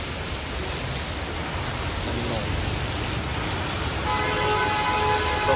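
Steady heavy rain pours down at night outdoors, a dense continuous hiss that stays even throughout with no voices.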